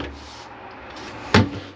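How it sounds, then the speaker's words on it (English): A quiet room in a 2024 Keystone Cougar Half-Ton 32BHS, then a single short sliding thud as a wardrobe door glides and bumps shut near the end. "Wardrobe slide here."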